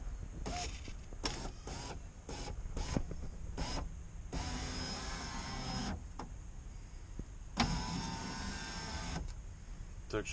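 The electric window lift motor in a UAZ Patriot door runs with the ignition off during door reassembly. It gives several short whirring bursts, then longer steady runs, close and fairly quiet.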